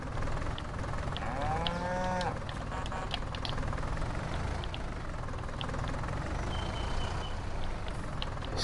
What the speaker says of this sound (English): It's it's quite a small pasture for a lot of cows.